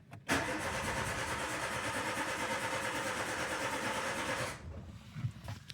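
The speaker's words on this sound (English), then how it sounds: "Let me crank for a little bit. I took off my fuel pump, so we will be just cranking. Cannot start." Car engine cranking without starting while the fuel pump is removed, a loud, steady rhythmic starter churn for about four seconds that then cuts off, followed by quiet handling noises.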